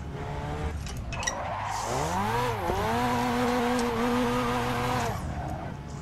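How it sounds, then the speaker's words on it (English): A Mazda RX-7 with a rotary engine drifts, its high revving whine rising and bending with throttle changes for several seconds, mixed with tire squeal and skidding, loud and fairly close. "the sound of that rotor engine going crazy"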